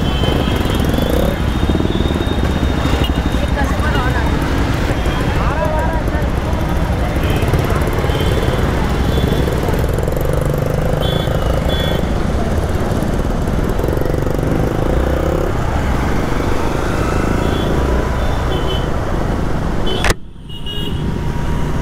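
Hero Xpulse motorcycles pull away together as an Independence Day group ride begins, a dense mix of engines revving and droning nearby, with a brief sharp drop in sound near the end.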